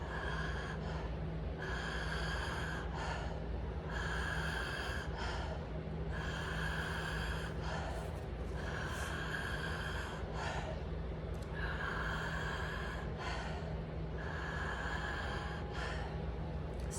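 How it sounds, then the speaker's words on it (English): Slow, audible open-mouth breathing during a breathwork practice, filling the chest rather than the belly, with long breathy inhales and exhales repeating in a steady rhythm, close and continuous over a low background hum. "I make my breath audible."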